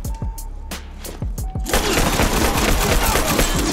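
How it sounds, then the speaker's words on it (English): Full-auto gunfire in The Last of Us multiplayer: a few separate sharp shots, then a continuous loud rapid burst that dominates the rest, close and harsh, with no speech over it. "I like the full auto in this game"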